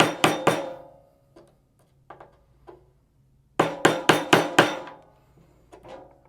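Sharp metallic tapping of a flathead screwdriver used as a hammer on an industrial sewing machine: a quick burst of three strikes, a few lighter taps, then a rapid run of five hard strikes and a faint final pair.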